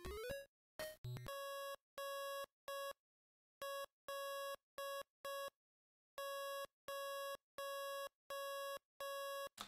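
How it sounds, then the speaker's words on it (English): Bursts of steady electronic tone pulse on and off in irregular long and short groups, clear and alone like keyed radio code. "So you can hear that this is Morse code here."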